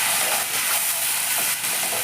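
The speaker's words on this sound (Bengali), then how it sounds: "আদাটা দিয়ে জাস্ট একটুখানি নেড়ে আমি একটু জল দিয়ে দিলাম" Water poured onto ginger paste in a hot pan hisses and sizzles loudly and steadily throughout, a close, continuous crackling spatter with no voices.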